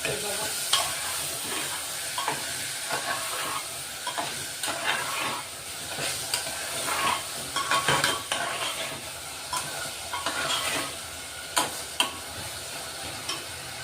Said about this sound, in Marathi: असं चांगले परतून घेऊ आपण आता